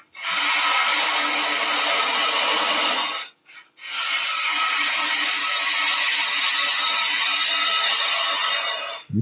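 A quarter inch bowl gouge cuts wood on a lathe, a close, steady hissing scrape that pauses briefly near the middle, then resumes for several more seconds with no talk.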